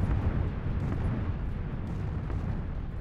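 Explosions in the battle-royale game PUBG form a dense, continuous low rumble of overlapping blasts that stays loud and steady throughout, with no voices.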